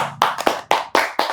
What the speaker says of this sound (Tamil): அதுக்கே ஒரு கைத்தட்டல்